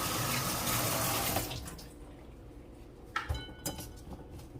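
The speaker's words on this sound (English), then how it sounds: "chop me a little bit more cabbage, and I'm gonna wash it" Tap water runs loudly into a sink over chopped cabbage for about a second and a half, then stops, followed by a few faint clatters of handling in the sink.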